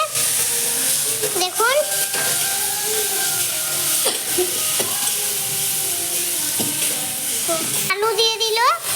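Turmeric-coated food sizzles and fries steadily in a pan in a village kitchen while a utensil stirs and scrapes at intervals, with someone talking over it and bird-like chirps in places.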